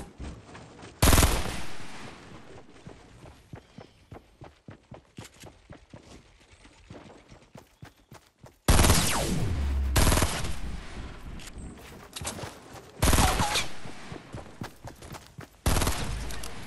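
Pistol fire in the shooter game Trashnite rings out in rapid volleys of sharp, close cracks, with a few louder bursts in between, and no voices.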